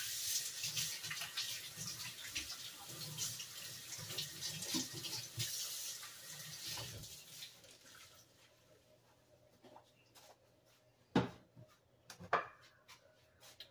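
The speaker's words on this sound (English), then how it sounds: "I'm gonna wash my hands real quick." Tap water runs steadily into a kitchen sink for about eight seconds while hands are washed, then cuts off, followed by a few sharp clatters and knocks of cupboards or dishes in a quiet room.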